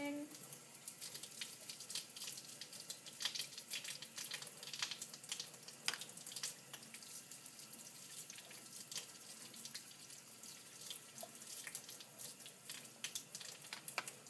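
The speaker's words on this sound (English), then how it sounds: "And then you're going to rinse everything." Lukewarm tap water runs steadily into a sink as dentures are rinsed, a faint, continuous splashing hiss with occasional small clatters, fairly quiet throughout.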